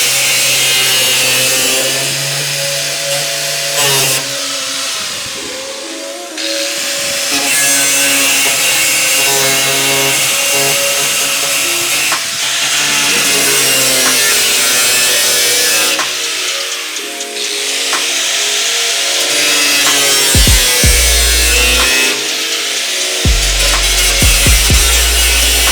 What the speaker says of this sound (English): let's get to some more cutting here